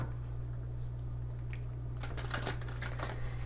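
A deck of tarot cards being shuffled up close, starting quiet and then breaking into a quick run of crisp, clicking card flutters in the second half.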